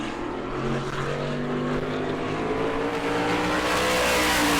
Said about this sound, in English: Here comes Nocella down to line.